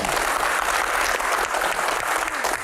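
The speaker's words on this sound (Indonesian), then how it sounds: "Tepuk tangan." An audience at a Q&A session applauds, a short burst of steady, dense clapping that stays loud and even throughout.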